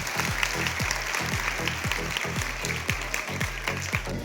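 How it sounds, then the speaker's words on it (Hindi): A large gathering of schoolchildren at a Republic Day event on 26 January claps loudly for themselves. The applause is a sustained wash of clapping over a steady low rhythmic thumping. "एक बार अपने खुद के लिए जोरदार तालियां बजाएं।"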